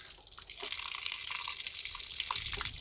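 Water runs steadily from a tap supplied by a reverse osmosis plant, a continuous close hiss of flow with faint splashes throughout.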